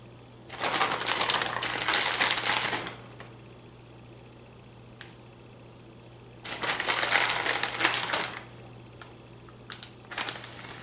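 Shredded mozzarella rattles and patters as it is shaken from a bag over spinach and ricotta stuffed shells, coming in two long dense bursts with a shorter spatter near the end and quiet gaps between.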